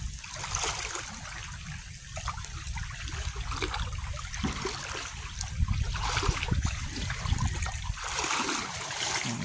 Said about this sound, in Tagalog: Abot tuhod din oh,